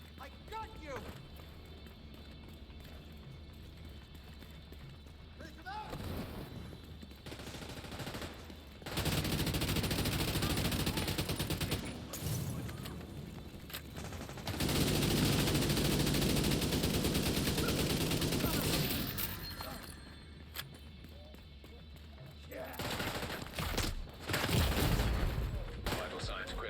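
AK rifle fire in The Division 2 rings out in long sustained automatic bursts at several points, loud and close, with someone talking between and over the shooting.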